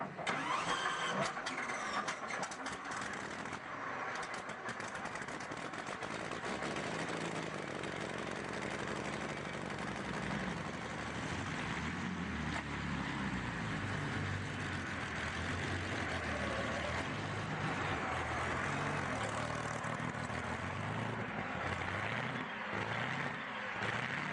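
A Merlin V12 engine fitted in a 1955 Chevy cranks and fires up, then settles into a loud, dense, rumbling run that stays steady and close throughout.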